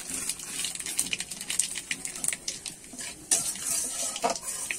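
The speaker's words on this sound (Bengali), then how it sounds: "আজকে কিন্তু আমি ফোড়নে দেবো কালো জিরে আর একটা শুকনো লঙ্কা 2 আধখানা করে দিয়ে দিয়েছি" Black cumin seeds and a halved dried red chilli sizzle in hot oil as a tempering for a Bengali ridge gourd, potato and prawn curry, a steady close crackling hiss with light stirring and utensil clinks.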